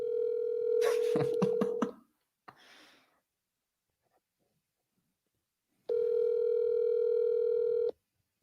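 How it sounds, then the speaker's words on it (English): A telephone placing a call: a loud, steady electronic tone with some dialing clicks, a brief noise, a pause, then a second sustained two-second line tone, all close and with no talk. "I have to make a phone call real quick"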